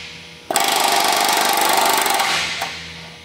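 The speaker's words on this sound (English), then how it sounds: "rivet until my dimple is formed" Pneumatic rivet gun driving a rivet against a bucking bar to form a dimple in an aircraft flush patch, one loud continuous rattling hammer burst of nearly two seconds, close and alone.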